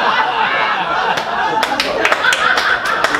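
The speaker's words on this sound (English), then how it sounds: "thank you for that smattering of applause" Comedy-club audience at a live stand-up show in Las Vegas gives light, scattered clapping mixed with chuckles and a few snickers, close and uneven, with murmured chatter in the room.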